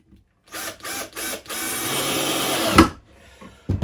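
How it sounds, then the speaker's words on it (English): Battery drill starting to run low on power while building a plywood baseboard: three short whirring bursts, then a longer sustained run ending in a sharp clunk, then quiet with faint knocks. "I can tell that my battery drill is starting to run out of power"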